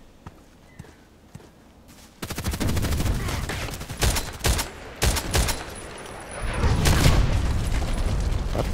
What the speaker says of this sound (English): There was a grenade coming, which I did not anticipate